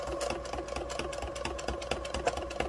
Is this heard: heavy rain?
no